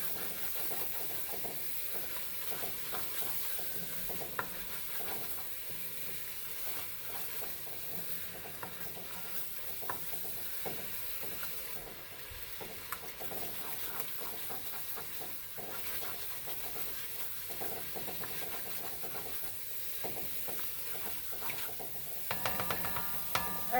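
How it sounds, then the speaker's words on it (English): While goat curry cooks, a spoon knocks against the pot in scattered sharp clinks over a steady sizzle and bubbling hiss, close by, with the strikes clustering near the end. "I also have a habit of hitting my spoon on my pot."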